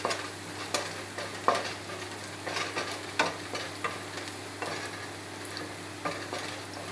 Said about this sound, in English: To give a good fry, stir fry.